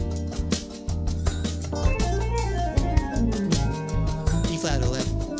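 Piano melodic lines built on add 11 upper structures played over a jazz standard, with busy improvised phrases over chords running continuously at moderate volume.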